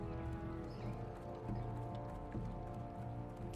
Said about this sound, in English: It's a pretty cool horse.